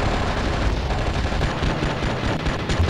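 Dense, continuous gunfire from enemies shooting at the player in the game Oni, a loud rumbling barrage of overlapping shots with no clear gaps and no talking.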